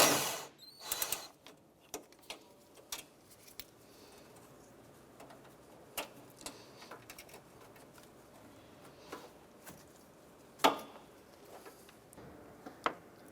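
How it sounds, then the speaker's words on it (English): A socket wrench working 10mm bolts loose from the radiator cooling fan bracket of a 2006-2013 Chevrolet Impala, heard as intermittent sharp metallic clicks and taps spaced irregularly, fairly quiet and close, with faint handling noise between them. "They're held in with a 10mm bolt. And you use our socket and remove these."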